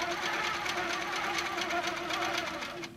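A longarm quilting machine stitches along a ruler, its steady rapid needle hum running continuously at close range for about three seconds before easing off slightly at the end.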